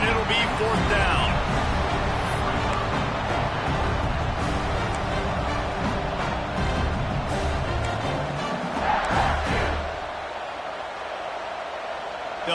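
A packed college football stadium roars during an LSU vs Georgia Tech game, trying to rattle the kicker before a field goal attempt. The steady, dense wall of crowd noise plays under a commentator's voice and eases slightly near the end.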